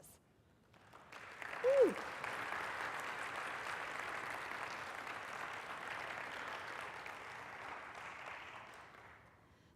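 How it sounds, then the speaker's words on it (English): A synod assembly audience at a Lutheran church in Tulsa, Oklahoma claps in sustained applause for several seconds, swelling early and then fading, with one voice whooping near the start. "can we take a moment and thank them all with applause?"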